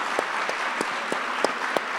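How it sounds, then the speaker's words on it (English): Audience applause at a political talk event with Keith Boykin and Clay, sustained clapping from a seated crowd with a few sharper accents, steady and moderately loud throughout, no voices over it. "let's give another round of applause for Keith and Clay"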